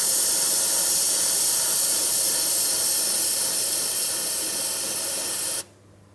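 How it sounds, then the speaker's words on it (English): Aerosol parts cleaner sprays onto a 3.8L engine of a 2004-2008 Pontiac Grand Prix in one continuous loud hiss lasting over five seconds, then cuts off abruptly to near quiet. "I'm going to use some parts cleaner."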